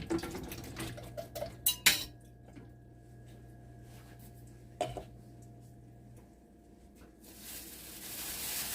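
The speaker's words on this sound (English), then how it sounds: "I'm going to drain this juice off of here first" Can of black beans being drained for taco soup in a home kitchen: metal clinks and clatters up front, then a quiet trickle and splash of liquid, with a steady hum beneath.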